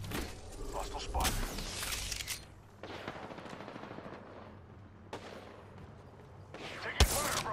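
Bursts of automatic gunfire in Apex Legends ranked arenas, loud rapid volleys in clusters with pauses, sharp reports near the end, with in-game voice callouts between shots.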